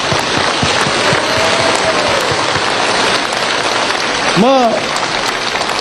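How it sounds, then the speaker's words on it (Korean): A large congregation at a gospel crusade rally in Mokpo claps in thanks to God, a dense steady roar of applause throughout, with a brief voice or shout rising near the end. "우리 하나님께 한 박수로 감사."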